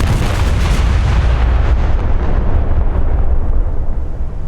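A 16-inch naval gun shell fires and explodes in the War Thunder naval combat game, a loud, dense rumbling blast that fills the clip and slowly rolls off, with no talk.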